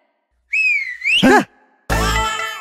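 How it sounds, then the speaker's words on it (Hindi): A person whistles a close, loud wavering tone that rises and dips, breaks off, then gives a second harsher, breathier whistle blast after a brief pause. "देख कैसे सीटी बजाते हैं"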